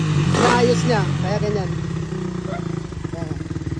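A Raider 150 motorcycle with a 203cc engine runs steadily while being tuned, its low even idle thrumming close by beneath continuous male conversation.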